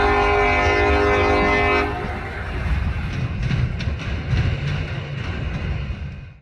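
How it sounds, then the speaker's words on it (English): A short steel train rumbles past close by with a loud horn blast at the start, then the steady rolling clatter of railcars fading out at the end. "There wasn't too much to see on this short steel train"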